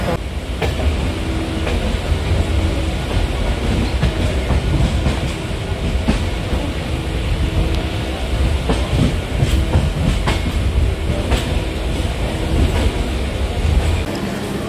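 A local train running, steady loud rumble with rhythmic clickety-clack of the rail cars throughout, close and continuous, no talk.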